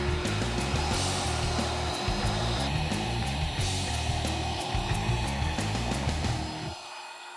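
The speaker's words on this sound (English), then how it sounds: "Clean everything up real good, vacuum it." A vacuum cleaner runs steadily while debris is cleaned out of a window opening during an Andersen replacement window installation, a continuous droning whine that holds for several seconds, then cuts off near the end.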